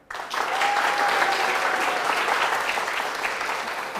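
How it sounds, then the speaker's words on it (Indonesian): An audience at a stand-up comedy open mic claps for TVRI: a sudden, dense burst of applause that stays loud and steady throughout, with a faint tone running through it. "Dan teman-teman tepuk tangan dulu dong buat TVRI."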